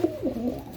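A pigeon gives a short, low, close cooing call, a brief throaty burst alone against quiet background.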